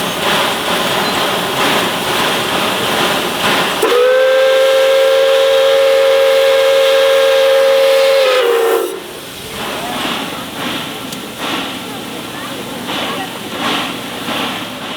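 Pere Marquette 1225 steam locomotive, pulling the North Pole Express in Owosso, Michigan, sounds one long, loud chime whistle blast of about five seconds over rumbling train and hiss of steam, which continue after the whistle stops.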